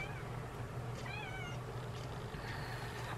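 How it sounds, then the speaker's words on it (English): A tiny young cat, close to a year old, gives a few soft, brief meows over a steady low indoor hum, with no talk during the sound. "I see the cat."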